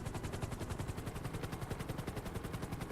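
Gunfire from an aircraft-mounted weapon in the video game GTA 5 Online, a rapid continuous stream of shots heard alone at low volume.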